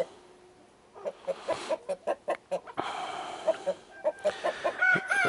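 Chickens cluck in a poultry coop, a run of short, rhythmic, fairly close calls with brief pauses between bursts and overlapping clucks toward the end.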